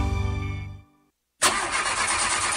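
A car engine, in a Brazilian radio ad sound effect, cranks briefly and dies into a short silence, then a loud broadband whoosh like a breakdown or hiss bursts in and continues steadily.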